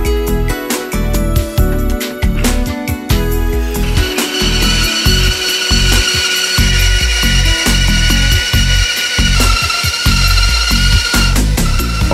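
A gunsmith's power saw cuts a wood blank for a rifle stock, first in rapid rough bursts, then in a long steady high whine with a grinding, rattling undertone, loud and close with no talk.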